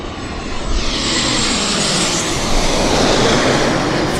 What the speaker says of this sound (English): we've got a jet coming in behind us